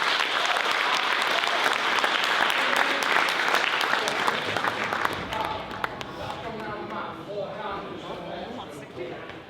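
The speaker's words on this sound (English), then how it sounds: "Give them another clap" A sumo event audience claps for the first British wrestlers, with thick, sustained applause that gradually thins and fades into scattered claps and a murmuring crowd.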